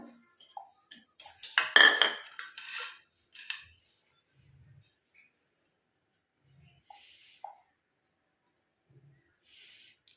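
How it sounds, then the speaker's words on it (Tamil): Homemade Kerala-style black cumin powder hair dye is moved into a bowl: a short burst of scraping and clinking from a utensil against the container, followed by sparse, faint taps and quiet pauses. "நம்ம எடுத்து ஒரு பவுலுக்கு சேஞ்ச் பண்ணிக்கலாம்"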